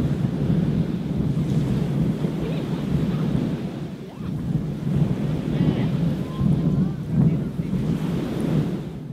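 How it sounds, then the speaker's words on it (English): Broad rushing surf, low and steady, with waves breaking in slow swells and a blustery wind rumble over the microphone. "The rhythm of the ocean waves crashing"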